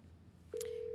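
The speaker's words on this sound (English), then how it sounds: "Pull out your phone and call." Phone call tone from the video game Scarlet Hollow: a single clean, steady electronic tone starts midway and holds, rising sharply out of quiet low background ambience.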